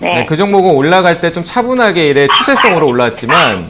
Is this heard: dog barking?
yes